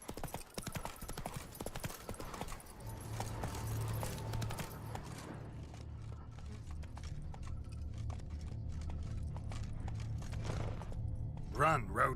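Roach, the horse in The Witcher 3: Wild Hunt – Blood and Wine, gallops with steady, rapid hoofbeats that go on for most of the stretch, with game effects and some talk over the top.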